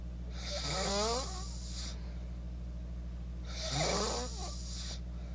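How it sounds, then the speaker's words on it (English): A person snores twice, each long rasping inhale spaced a few seconds apart over a steady low background hum. "Like, I will insert a video of his snoring."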